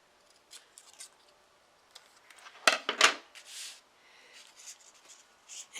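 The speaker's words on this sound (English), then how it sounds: "So now I will take some scissors" Scissors snip at a paper anniversary card, a few quiet snips and then two crisp louder cuts, followed by light rustling of the card.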